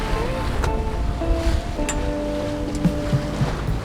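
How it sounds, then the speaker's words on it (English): A boat motors into confused ocean swell off Steep Point, its engine a steady low drone under rushing water and wind, with faint tonal whines drifting in and out. "We're just trying to motor into it the best we can."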